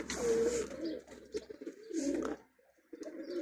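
Pigeons near a loft tower coo in low, throaty rolling phrases, several overlapping calls close by with short pauses between bursts.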